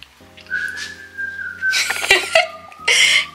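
Someone whistles a melody up close, sustained notes rising and falling, with a brief cough-like burst in the middle.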